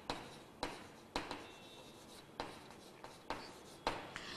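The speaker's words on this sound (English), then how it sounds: "I'll write here." Handwritten strokes during a Class 8 science lesson: soft, faint scratching with sharp taps as a pen or marker meets the surface about every half second, forming an irregular, close rhythm over a quiet room.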